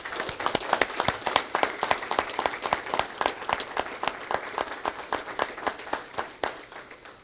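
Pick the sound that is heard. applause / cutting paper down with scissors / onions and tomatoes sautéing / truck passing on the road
applause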